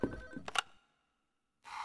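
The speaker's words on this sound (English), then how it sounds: "Phone is ringing." A phone rings in a video game, a short electronic ring burst at the start that cuts to silence, then a brief noisy rush of sound returns at the end.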